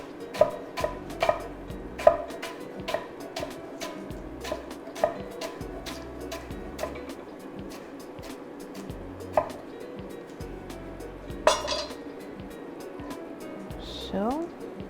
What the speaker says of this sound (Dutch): en dan kan je dit heel dunne reepjes snijden